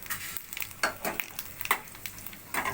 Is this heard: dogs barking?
no